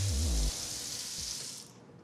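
Kitchen faucet running at full pressure into a sink, a steady close hiss of water, preceded by a brief low hum that drops away.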